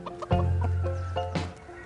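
Hens cluck inside a hen house, a close run of short clucks with one drawn-out, sustained call in the middle, alone without talk.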